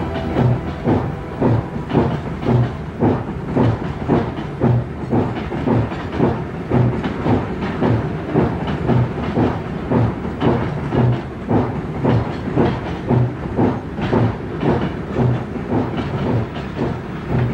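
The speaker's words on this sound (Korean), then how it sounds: "기차는 시속 10km로 아주 천천히 운행했다" Train rolling very slowly at about 10 km/h over a newly laid line in China's Tianshan region with no ballast yet under the track, giving a steady, close rhythmic clickety-clack of wheels with a faint hiss, throughout and without speech.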